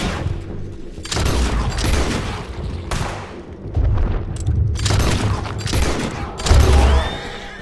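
Gunfire in Red Dead Redemption 2 comes as several loud, booming blasts in bursts, some trailing into echoing rumbles, with game sound underneath.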